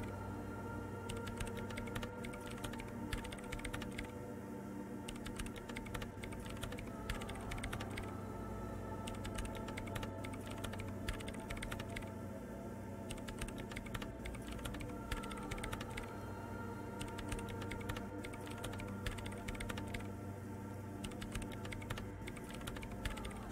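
Quiet, continuous keyboard typing, dense rapid clicks as commands are entered into a machine in the video game Disco Elysium, runs under a low steady mechanical hum and faint creaks for over twenty seconds.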